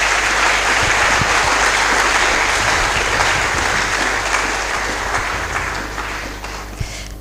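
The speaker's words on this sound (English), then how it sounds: "Can you give me a round of applause?" Sustained applause from a large audience at a college of engineering freshmen orientation, dense and steady throughout with a slight fade near the end, loud and close.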